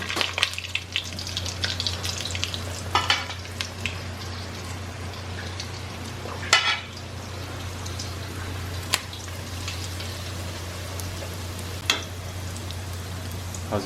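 Cheeseburger egg rolls frying in hot oil give a steady crackling sizzle with scattered sharp pops and spits, close and continuous throughout, with no voices.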